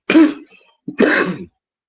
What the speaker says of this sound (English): I keep coughing here and there, and I'm sure you've heard it.